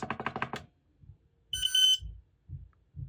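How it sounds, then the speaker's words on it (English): X-Sense SC07-W smoke and CO alarms beep together once to confirm pairing, a short, bright electronic tone in a quiet room between soft handling noises, after brief speech at the start. "they will then beep together to let you know that they've been connected successfully"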